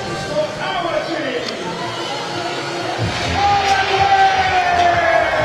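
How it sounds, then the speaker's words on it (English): A large crowd at a Harlequins v Munster rugby match cheers and applauds steadily as the team runs out amid pyrotechnics, the roar swelling louder toward the end, with shouts and a few whistles rising above the din. "Quins out to rapturous applause, pyrotechnics, flames, smoke, the magic show is here."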